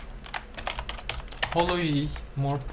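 Computer keyboard typing while writing OpenCV morphology code, a quick run of light clicking keystrokes close by, with brief speech breaking in partway through.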